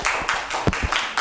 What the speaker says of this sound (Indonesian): Silakan tepuknya.